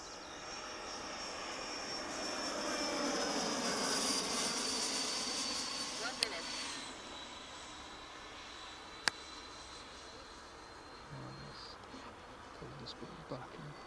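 An RBC Kits Skyray model aircraft flies overhead, its steady, high-pitched motor whine swelling and fading as it passes, with a couple of sharp clicks and voices talking nearby.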